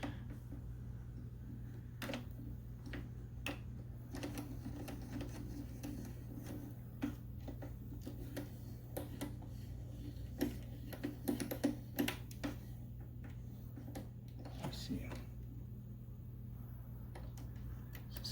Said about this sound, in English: as I start winding this, I'm going to put one wind on this side of the string